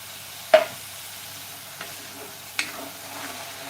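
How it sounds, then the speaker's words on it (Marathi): Tomato puree frying with onions and spices in hot oil over a medium flame, a faint steady sizzle broken by a few sharp spoon scrapes and stirring knocks. "त्या टॅमॅटोची सुद्धा चांगली अशी भाजून घ्यायची आपल्याला"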